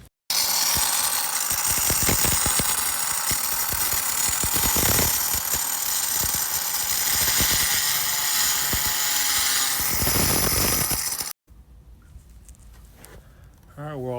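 A power saw grinds steadily through a piece of travertine stone for about eleven seconds, loud and close. It cuts off abruptly and a voice speaks afterward.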